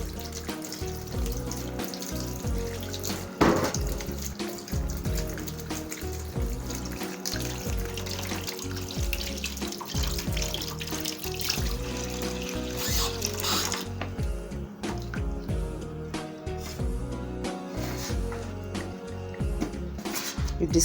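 Tap water runs steadily into a sink while onions are washed by hand, a dense continuous splash and rattle with occasional louder sloshes, no talk over it.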